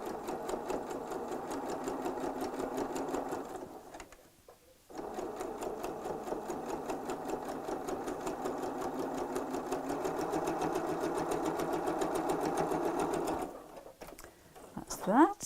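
Sewing machine stitching felt for a Santa face pocket, a steady fast mechanical chatter that runs for long stretches with two brief pauses and a quiet remark near the end.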